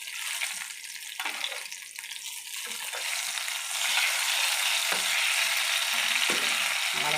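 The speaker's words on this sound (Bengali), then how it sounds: "এই রেসিপিটা অল্প তেলেই ভাজা হয়ে যায়, খুব বেশি তেল লাগে না।" Pieces of pointed gourd frying in a little oil in a pan give a continuous close sizzle, with occasional scraping clicks of stirring over it.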